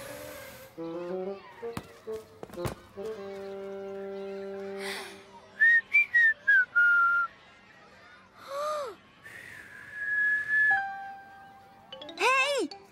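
A cartoon child whistles several thin notes that rise and fall between bursts of voices and a gasp, fairly close and not very loud.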